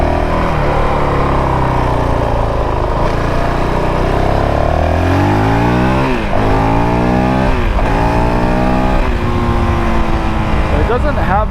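A 2022 Honda CRF450RL dual-sport motorcycle accelerates out of a corner on concrete while riding around town, its engine rising and falling through repeated revs and gear changes, loud and close throughout.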